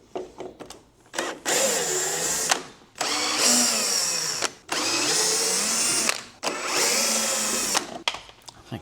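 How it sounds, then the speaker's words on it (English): A worn-out DeWalt power drill runs in three long, loud whirring bursts of about a second and a half each, close by, during work on a 1992 Subaru Sambar's lights, with short pauses between runs. "I think that DeWalt drill is on its last leg."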